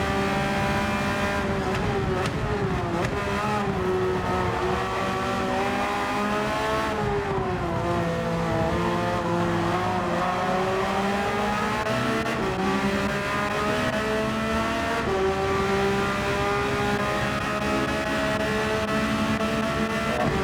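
Racing cars in a manufacturers' world series championship race in a racing video game, engines droning and revving steadily at close range for the whole stretch, shifting pitch as the cars accelerate and brake with no pauses.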